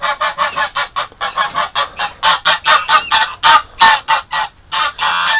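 Geese honk loudly and repeatedly in a barn with duck and goose hatching, an upset male goose among them; harsh, close calls come in rapid bursts with brief gaps, no talking.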